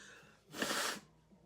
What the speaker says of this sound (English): I think I'm going to sneeze again.